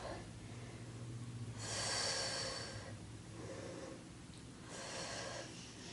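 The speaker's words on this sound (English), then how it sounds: "exhale through the mouth" A slow exhale through the mouth during an intermediate Pilates workout, two broad breathy rushes rising out of steady room hiss, close and soft.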